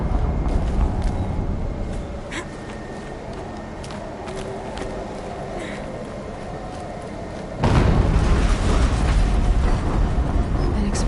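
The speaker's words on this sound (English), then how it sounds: "An explosion." An explosion in the video game Horizon Zero Dawn bursts in loud and sudden partway through, then carries on as a sustained low roar over a steady rumbling game ambience.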